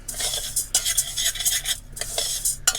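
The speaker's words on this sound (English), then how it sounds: "just stir that up, make sure it's all coated with the oil" A utensil stirs basmati rice in oil in a pan, making continuous scraping and rustling with a few sharper metallic clinks, close up and alone without talk.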